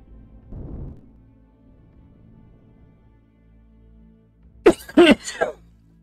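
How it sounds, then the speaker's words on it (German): A single person's cough, a short burst of two or three sharp hacks near the end after a quiet stretch with faint background noise and a brief low rumble. "Ah, dieser Husten."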